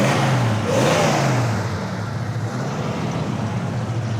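A 1973 Ford Mustang Fastback with dual exhaust runs steadily, its engine note rising briefly in a rev before settling back to a loud, continuous rumble close by.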